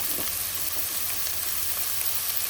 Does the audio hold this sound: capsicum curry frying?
yes